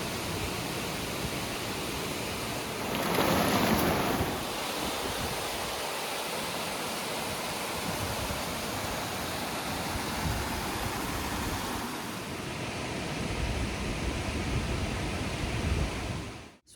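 A Lake District waterfall roars as a broad, steady rush of falling water, loud and close, continuous throughout with no voices.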